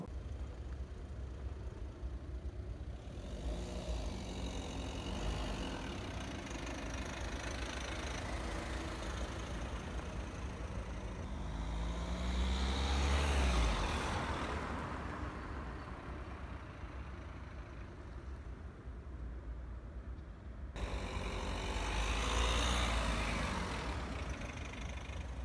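Cabin noise inside an Opel Crossland X with a 1.5 diesel engine while driving, a steady low engine drone and road roar with a couple of swelling surges, moderate and continuous with no talk.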